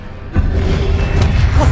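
A Confringo blasting spell is cast in the video game Hogwarts Legacy: one sudden loud thud-like burst hits, then a sustained rumbling roar follows and keeps going to the end under steady game noise.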